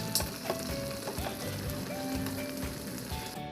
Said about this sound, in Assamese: এইখিনি লৰাই লৰাই ভালদৰে মিক্স কৰিব লাগে।